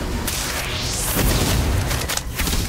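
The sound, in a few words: Confringo blasting spell explosion in Harry Potter Magic Awakened video game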